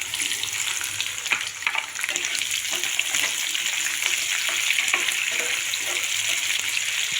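Chopped onions sizzle and fry in hot oil with peanuts, cumin, mustard seeds and urad dal for masala avalakki; a steady, close crackling hiss runs throughout with occasional stirring clicks.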